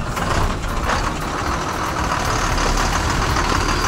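A vehicle from Jabalpur approaching along a highway in India, heard as a loud, continuous roar of engine and road noise up close, heavy and unbroken throughout, with no talking.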